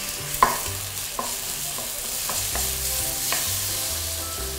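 Thick northern Thai hang lay curry cooking in a hot pan after water is poured in bubbles and sizzles at a low level, with scattered clinks and scrapes of a utensil stirring, and no one speaking.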